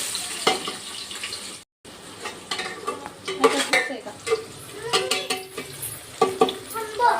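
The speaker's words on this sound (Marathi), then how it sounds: "आता तेल टाकून घेते मी टाकायचं कांदा" Chopped onion hits hot oil in a pan while preparing mutton, giving uneven bursts of sizzling with stirring scrapes and clatter, moderately loud, with one brief silent gap near the start.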